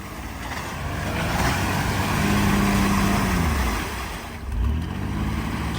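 A heavy offroad truck grinds through a swamp, its loud, steady engine rumbling close throughout, with a rising strained tone mid-way and a brief dip and surge near the end.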